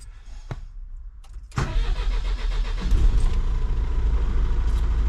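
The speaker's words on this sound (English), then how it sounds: "we need to start the engine, handbrake on into neutral" An LGV truck engine cranks and fires after a few quiet clicks, then settles into a loud, close, steady diesel idle that deepens slightly as it runs.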